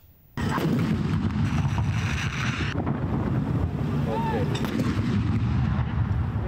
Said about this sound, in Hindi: लाहौर में यौम आज़ादी का आगाज़ BX स्टेडियम में पाक फौज के चाको चौबंद दस्ते की जानिब से 21 तोपों की सलामी से हुआ